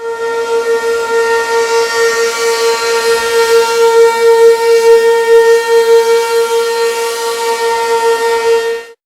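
Four P15 mini sirens wailing together, loud and sustained for about nine seconds with a slight pulsing wobble in volume, then stopping suddenly.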